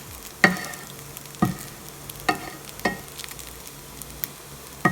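Leftover rice stir-frying with jerk egg in a pan, a steady sizzle broken by four or five sharp scraping stirs at irregular intervals, close and fairly loud with no talking.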